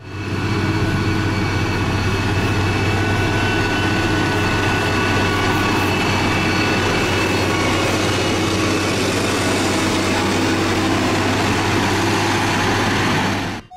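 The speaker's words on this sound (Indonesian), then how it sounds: "Di sini ada motor grader buat menghaluskan jalan." A motor grader's heavy diesel engine runs steadily at a roadworks site smoothing a road, a constant low rumble with a loud, even drone throughout and no talk.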